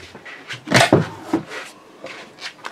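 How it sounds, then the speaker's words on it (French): Cupboard doors in a camper van are opened, with a cluster of close wooden knocks, clicks and rattles, one louder bang near the start and lighter handling sounds after, with no talking. "N'oubliez pas d'ouvrir les placards"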